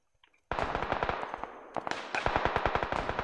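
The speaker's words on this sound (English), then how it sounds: "I hit the trigger and it just pulls like 18 bullets." Automatic gunfire in the video game PUBG, a loud, close, rapid burst of shots that starts abruptly, pauses briefly and resumes in a steady rattling rhythm.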